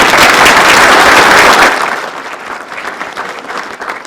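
Audience applause at a Clarkstown town reorganizational meeting, a loud dense wash of clapping that swells for about a second and a half, then thins and fades to scattered claps.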